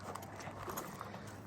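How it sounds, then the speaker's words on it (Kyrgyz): A fast black riding horse's hooves clop quietly and irregularly, somewhat distant, over a low steady background. "Өтө күлүк жылкы экен туугандар"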